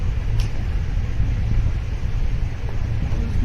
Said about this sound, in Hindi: इसमें चलते हैं। आज तो फ्रैंकलिन की वाइट वाली गाड़ी है।